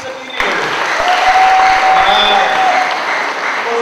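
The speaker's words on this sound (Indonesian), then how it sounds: "Berikan tepuk tangan bagi diri sendiri." A youth conference audience in Keningau, Sabah, bursts into loud, sustained applause that fills the hall, with a sustained tone and some voices mixed into the crowd.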